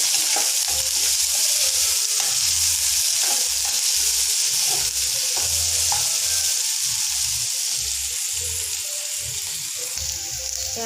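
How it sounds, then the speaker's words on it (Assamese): Chopped onions fry loudly in oil with cumin seeds, a steady close sizzle throughout. A spatula scrapes and stirs the pan in regular strokes. "এইখিনি অকণমান সময় ভাজি লওঁ, পিঁয়াজখিনি কোমলি যোৱালৈকে।"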